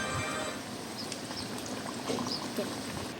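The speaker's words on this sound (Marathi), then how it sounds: "त्याला अलगद असं तेलात सोडायचं आहे" Mutton vadas slipped gently into hot oil hiss in a continuous broad, fairly faint frying sizzle while a voice speaks over it.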